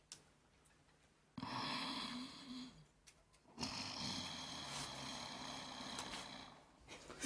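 A woman imitates snoring with her voice for an animated film: two long, loud, rasping snore breaths separated by quiet inhaling pauses, close to the microphone.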